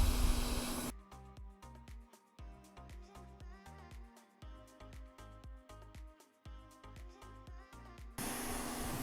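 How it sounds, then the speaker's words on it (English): A heat gun is aimed at the screen edges of a 2018-2020 Apple iPad Pro 12.9-inch, 3rd or 4th generation. Its loud airy hiss is heard for about a second at the start and again at the end, while rhythmic music fills the middle. "we're going to go ahead and just heat up the screen on the edges and just work the clip all around."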